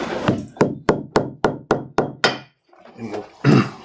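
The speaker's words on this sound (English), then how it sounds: "I'm going to get this piece of granite up here so I can tap that lace down. I did bring a hammer." A hammer taps leather lace down against a piece of granite: eight sharp, evenly spaced strikes close to the microphone, followed by a short pause and a couple of softer knocks.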